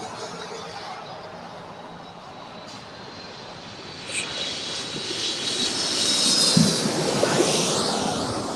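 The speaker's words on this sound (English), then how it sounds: "Who's back already? The JetBlue I Love New York A320." A JetBlue Airbus A320 airliner arrives at LAX: a steady jet engine roar, distant and broad, swelling gradually louder toward the end.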